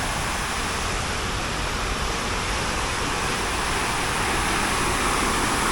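A public city fountain in Manila splashes continuously, a steady wash of falling water mixed with faint background traffic, heard alone without voices.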